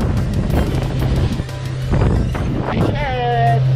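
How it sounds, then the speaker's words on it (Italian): Strong sirocco wind roars and buffets the microphone in a steady, loud rush at sea amid waves about a metre and a half high, while a voice talks over it. "C'è tipo un metro e mezzo di onda che viene da Levante e un vento forte da Scirocco."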